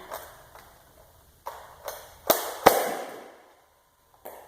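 A Nerf KSG-12 toy shotgun is pumped and fired at close range, making a series of sharp plastic clacks that build to two loud snapping shots, then a short quiet gap and one final click.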